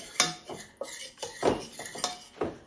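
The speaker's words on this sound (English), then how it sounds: "So just put a little bit in now and mix it round to make a paste." Milk being stirred into a paste in a kitchen bowl for cauliflower cheese, with a spoon clinking and scraping against the bowl in several distinct knocks and swirls, close and moderately loud, with no talking.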